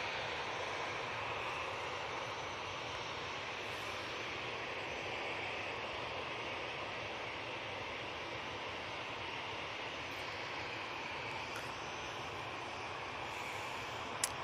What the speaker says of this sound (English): This Easyjet is off to Bilbao using the A320-200.